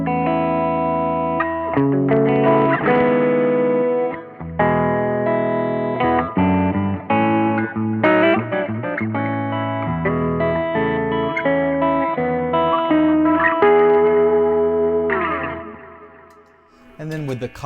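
Electric guitar played through a cheap 1970s vintage amp with a Riverside distortion pedal, crunchy overdriven chords and riffs with sharp pauses, loud and close, ending in a fading ring.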